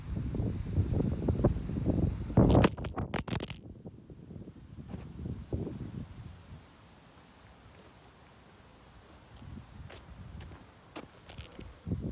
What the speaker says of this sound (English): The wind just blew down the tripod.